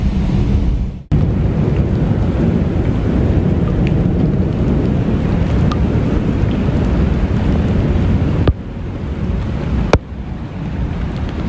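Strong wind and rain from Hurricane Milton roar steadily in Florida, a loud, dense rush with brief drops in intensity, with no voices.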